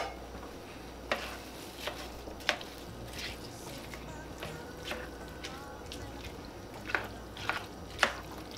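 Succotash with bacon pieces is stirred in a pan over a low, steady sizzle, with occasional sharp spoon clicks and scrapes standing out at irregular intervals.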